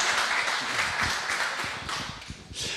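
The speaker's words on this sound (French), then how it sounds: "On peut déjà les applaudir pour les encourager" Audience applause at a business presentation on supplier invoice processing, a steady broadband clapping wash lasting a few seconds with no talk over it.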